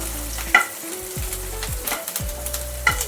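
Chopped green chillies fry in oil for chicken majestic, a continuous crackling sizzle close by, punctuated by a few scrapes of a spoon stirring the pan.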